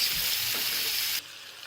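Bacon frying in a pan over medium heat, a close, steady crackling sizzle that drops sharply to a much quieter hiss partway through.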